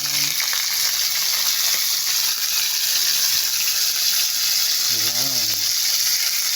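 Chicken adobo ingredients sauté in a hot pan with a loud, constant sizzle and hiss, while someone briefly speaks over the frying.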